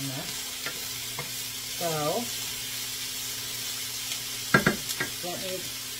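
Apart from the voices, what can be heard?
bacon frying in a pot for chili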